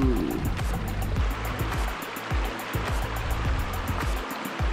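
A river flows steadily in a winter park setting, a broad continuous rushing wash with no clear breaks, moderately loud and close, with no talking.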